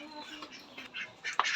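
Ducks being fed, with a few short nasal quacks and squawks rising near the end, close by, over low background noise.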